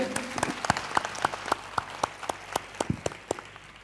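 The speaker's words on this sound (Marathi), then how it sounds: "या दोघांसाठी जोरदार टाळ्या होऊ देत." Audience at a school event gives a round of applause, sharp irregular claps from a small crowd repeating steadily throughout.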